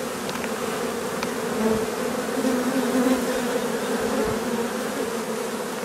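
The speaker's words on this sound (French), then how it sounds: "les abeilles reviennent à leur ruche" A swarm of honey bees returning to its hive makes a close, continuous buzzing drone, with individual bees droning louder as they pass near, heard on its own without speech.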